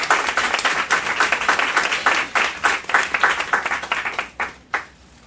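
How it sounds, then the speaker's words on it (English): A conference audience gives a lively round of applause, dense clapping that pulses unevenly and then tapers off to a few last claps. "Could we just give her a round of applause for putting this together?"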